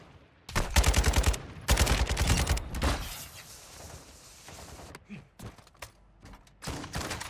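Enemy gunfire in the shooter DMZ: two loud rapid automatic bursts close by, then a lull with scattered distant shots, clanks and footsteps before more firing returns near the end.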